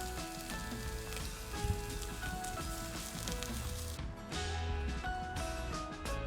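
Whole spices (cinnamon stick, bay leaves, cloves, cardamom, mace) and kabuli chickpeas fry in oil with a continuous close crackling sizzle, punctuated by occasional clinks and scrapes of a utensil in the pan, with no talking.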